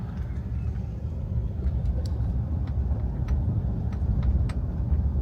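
A car driving slowly along a residential street in the small reservation town of Wounded Knee, a steady low engine and road rumble throughout, close and continuous with faint higher ticks over it.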